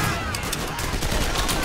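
Dense gunfire in a battle, with a Soviet Mosin-Nagant rifle among the weapons, a continuous loud barrage of overlapping shots and bursts filling the scene.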